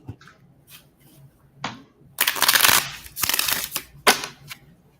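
Playing cards riffle-shuffled during a casual card game, a few short ruffling bursts followed by longer loud riffling runs up close, with no talk over them.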